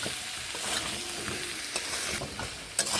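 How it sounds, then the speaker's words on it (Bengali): Pointed gourd and pumpkin curry stirred in a hot pan, soft close sizzling under repeated scraping strokes of a spatula, with no talking. "আরও একটু নেড়ে নিচ্ছি"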